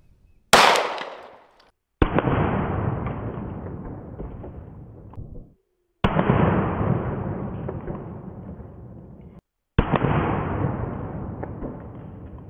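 Four loud, sharp rifle shots ring out one at a time several seconds apart at an armor plate made of bullets, each cracking hard and then rumbling away in a long outdoor echo, with no talking.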